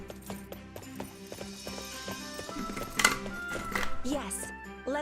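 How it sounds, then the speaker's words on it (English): Steady clip-clop of horse hooves trots along at a brisk, regular rhythm in the video game Fire Emblem Warriors: Three Hopes, with a person talking over it and a few brief chimes. "get these horses on the road"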